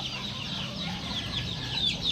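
Chickens cluck continuously across a chicken farm, a busy layered chorus of hens at moderate distance with steady background rustle and no talking.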